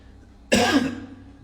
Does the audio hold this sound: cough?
yes